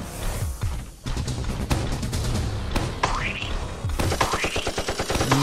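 Rapid bursts of video game gunfire crackle throughout, mixed with other loud game effects and springy sounds, dense and continuous rather than isolated shots.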